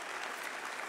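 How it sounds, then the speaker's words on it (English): A church congregation claps in praise, a dense, steady wash of applause throughout, loud and close with no gaps. "someone give a clap offering of praise to our God"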